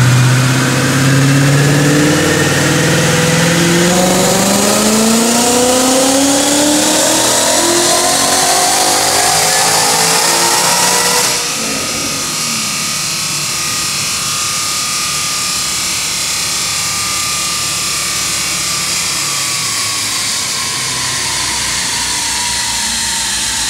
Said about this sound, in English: Check out this dyno plug.